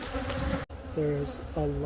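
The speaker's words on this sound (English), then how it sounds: "There's a lot of bees in here." Honey bees buzz in a busy hive while queen-cell frames are handled, a close, droning hum with rising whine-like tones that swell and fade.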